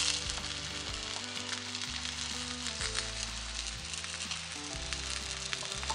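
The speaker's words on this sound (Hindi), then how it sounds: "अभी थोड़ी देर के लिए मैं इसको और पकाऊंगी ताकि साइडों से भी अच्छी तरह ये पक जाए।" A cheese paratha with green onions fries on a pan, giving a steady soft sizzle beneath continuous background music, with no voices.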